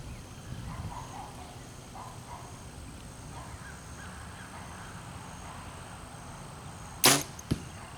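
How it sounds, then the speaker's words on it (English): A recurve or compound bow releases an arrow during a relaxed archery shot, giving a sharp, loud twang-and-thump near the end, followed half a second later by a fainter impact, with quiet outdoor ambience and a few distant bird calls before. "So I'm going to make a shot like that"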